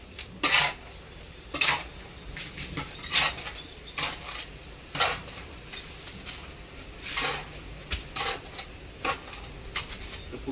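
A mason in Kolkata mixes cement mortar with added water for casting, making irregular gritty scraping and stirring strokes at close range with quiet pauses between them.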